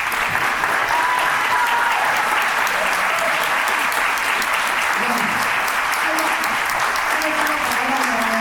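Enthusiastic applause from a large audience at the close of a national conference on animal law, loud and sustained throughout with a dense, even roar of clapping.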